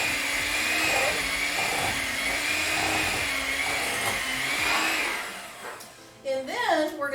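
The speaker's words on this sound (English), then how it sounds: "You might want to use the mixer because that almond butter is very good." An electric kitchen mixer whirs steadily while blending almond butter for energy bites, a continuous motor drone for about five seconds that then cuts out, with voices talking briefly afterward.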